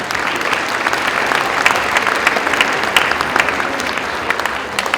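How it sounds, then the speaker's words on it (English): An audience at an elementary school concert claps in a dense, steady burst of applause that lasts throughout, with no one speaking over it. "so please give yourselves a round of applause"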